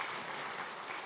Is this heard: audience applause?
yes